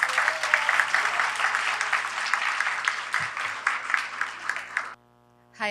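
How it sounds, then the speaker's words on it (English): An audience claps steadily for two women being honoured at a women's venture competition award ceremony, a dense sustained round of applause that ends abruptly near the close. "Let's give these two women a great round of applause."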